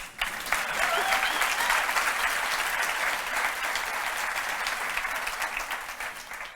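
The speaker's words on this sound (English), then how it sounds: "I think Danny deserves another round of applause" A crowd at a Glovo corporate tech event claps in a sustained, full round of applause, thick and steady for several seconds before easing slightly.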